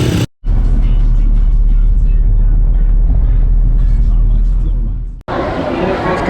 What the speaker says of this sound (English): It's kind of a mob scene again.